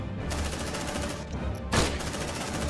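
Sustained automatic gunfire rattles in the sci-fi video game Aliens: Dark Descent, a dense continuous barrage with a sharper blast near the middle, loud and close throughout.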